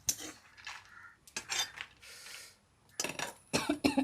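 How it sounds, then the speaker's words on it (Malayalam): Spoon scraping and scooping chili out of a hot pan while making Kerala-style nadan chicken curry, with several bursts of clinking metal-on-metal scrapes separated by short pauses, close and moderately loud with no talking. "മിളക് കോരിയെടുക്കുന്നു."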